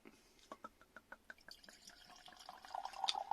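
Bottle-conditioned cider poured from a 500 ml bottle into a glass, first a string of quiet drips and glugs, then a rising fizzing splash as the liquid fills, close but soft.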